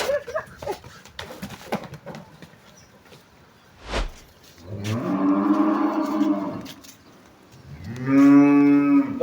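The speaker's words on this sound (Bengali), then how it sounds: "দর্শক গরুটা ঘর থেকে বের হয়েছে তো, আর ঘর থেকে বের হইলেই একটা ঝাপাঝাপি তিরপাতিরি করে।" A pregnant Holstein Friesian cow lets out two long, loud bellowing moos near the end, close by, after a stretch of clattering movement and a sharp knock, with no talk over it.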